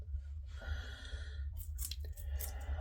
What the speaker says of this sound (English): Right now she is enjoying her celery.